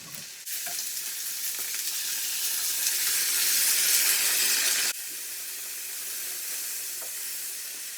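Chapaguri noodles frying in oil in a pan make a steady, loud broadband sizzle that swells slightly, then drops in level partway through and carries on hissing, with faint stirring clicks and no talking.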